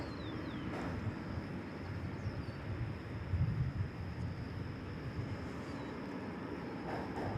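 Airliner arriving at DFW Airport from Birmingham, Alabama, a steady broadband roar with low rumble that holds at a fairly constant level throughout, swelling slightly midway, with no talking.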